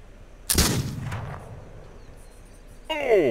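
Rifle fire in a video game: one sharp, loud shot followed by a decaying rumble and a fainter echoing report, then a second burst of noisy sound near the end.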